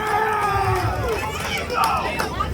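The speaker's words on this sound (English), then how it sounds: "Give yourselves a round of applause." An audience at a barbershop chorus show responds with a burst of crowd cheering and clapping, loud and close, with shouting voices and babble mixed through the noise.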